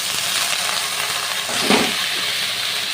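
Kulekhara greens frying with potato and eggplant in a pan give a steady, close sizzle with a brief louder burst of stirring partway through.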